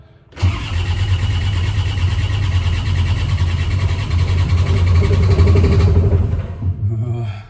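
A New Holland LS170 skid steer's diesel engine cranks and catches, then runs at a loud steady clattering idle for several seconds before easing down, heard up close from the cab.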